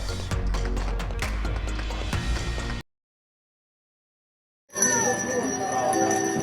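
A hand bell rings rapidly and steadily for a Salvation Army red kettle outside a Walmart, bright metallic clangs in quick succession, broken by a brief silence before the ringing resumes.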